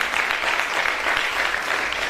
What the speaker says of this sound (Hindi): एक बार बिना ही कविता के ताली बजाकर मुझे आदेशित करें